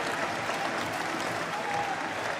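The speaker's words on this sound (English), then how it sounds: "the runners as well as the spectators here giving their applause" Runners and spectators at the Amsterdam marathon applaud together in a dense, steady wash of clapping from a large outdoor crowd that holds at an even level throughout.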